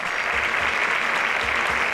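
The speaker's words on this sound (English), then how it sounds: "Please give him a round of applause." A studio audience claps for the winner of a pitch competition on a semifinal episode, a steady, even burst of applause with no voices over it.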